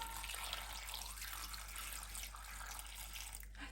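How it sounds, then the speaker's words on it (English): Water poured from a jug into a slow cooker around a seasoned gammon joint, a steady continuous splashing and trickling stream lasting throughout, close and fairly loud, with no talking. "the only other thing you have left to do is to pour in your water"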